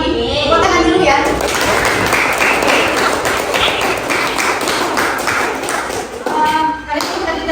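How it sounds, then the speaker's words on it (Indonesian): Students in a classroom clap together in a dense burst of applause that lasts several seconds, with children's voices mixed in before it fades. "Tepuk tangan dulu ya."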